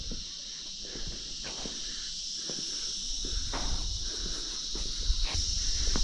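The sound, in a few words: crickets chirping at night in the jungle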